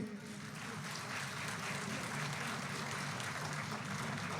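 Audience applause at a Tamil public talk about Tamils working abroad, a steady, faint wash of many hands clapping that holds evenly throughout.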